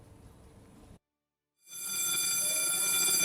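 A fire alarm rings in a shopping mall during an evacuation drill, a loud, steady electronic bell starting abruptly after a short silence and holding continuously to the end.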